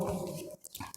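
A dog gives a short, soft bark or whimpering yelp, faint and brief, a couple of quick vocal bursts within a second.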